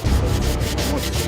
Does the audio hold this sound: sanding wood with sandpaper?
yes